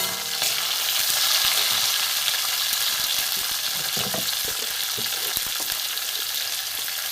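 Steady, loud sizzling of capsicum frying in a hot pan as chopped tomatoes go in, with occasional scraping and stirring clicks throughout.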